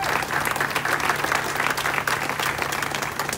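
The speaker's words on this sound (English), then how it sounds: "Now, don't applaud me." A crowd at an outdoor historical marker unveiling ceremony in Philadelphia claps loudly and continuously, a dense, even wash of applause with a faint steady hum underneath.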